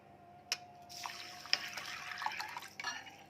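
Quiet water pours and splashes briefly, with a few sharp drips and clinks standing out, close by and without speech.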